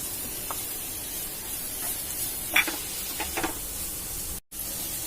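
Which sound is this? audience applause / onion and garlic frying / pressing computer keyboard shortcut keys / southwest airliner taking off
onion and garlic frying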